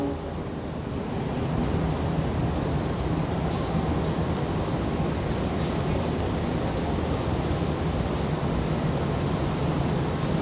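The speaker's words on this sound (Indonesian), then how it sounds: "Ini kereta api Argo Muria kembali diberangkatkan dari jalur 4 stasiun Jatinegara." The Argo Muria passenger train pulls away from platform 4 at Jatinegara station, a continuous loud rumble and roar of rolling wheels with a rhythmic clatter from the carriages.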